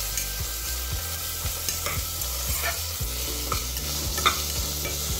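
Green chilies frying and being stirred in a hot pan with a continuous soft sizzle and occasional scraping stirs, heard under steady background music with no talking.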